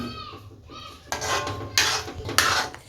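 Tirunelveli halwa being stirred in a pan, a utensil scraping and clinking against the metal in a few loud bursts over a low background rumble.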